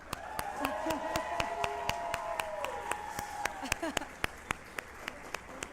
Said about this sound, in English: The louder you clap and cheer